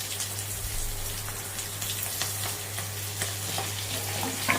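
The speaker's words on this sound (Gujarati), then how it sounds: "જીરુંનો વઘાર કર્યો અને ગેસને સાવ ધીમો મૂકી દઈ અને ધીરે ધીરે ધીરે આપણે આમ ડુંગળીને મૂકતા જશું" Whole onions are set one by one into oil tempered with cumin over a very low flame. A dense, even sizzle with soft crackle continues without pause, and no one speaks.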